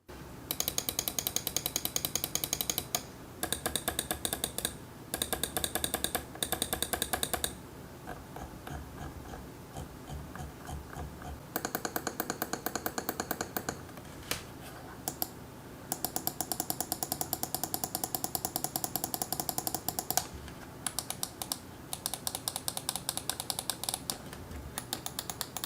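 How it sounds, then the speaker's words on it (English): The buttons of a SteelSeries Rival 3 gaming mouse are clicked rapidly in long bursts. Close, crisp, dense clicking runs for most of the stretch, broken by a few short pauses, with no talk. "I'm going to hit all 6 buttons, so that way you can just hear what the mouse actually sounds like when you're clicking away."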